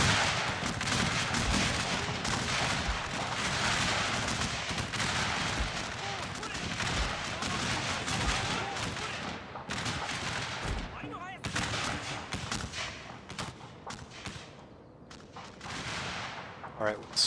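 Artillery booms and crackling rifle volleys from a Civil War battle video game set at Franklin, 1864, rolling continuously at moderate volume with dense overlapping shots, thinning slightly toward the end.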